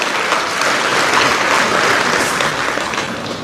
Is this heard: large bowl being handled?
no